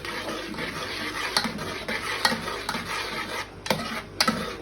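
A spoon scrapes and stirs through ingredients in a pot, with repeated knocks against the sides over a soft bubbling background.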